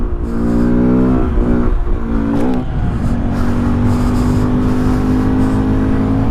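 A Toyota Yaris drives past close by, its engine hum and tire roar loud and steady, with a rising and falling pitch sweep as it goes by.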